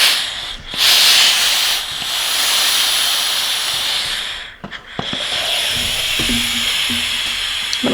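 Steam iron hissing onto a folded denim jeans hem, a close, loud breathy rush in long bursts with brief pauses, followed by a few soft clicks and thumps of the iron being handled.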